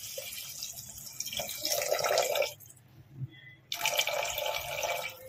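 Water pours from a glass into a pan of green pigeon pea curry in two close splashy bursts separated by a short quiet gap.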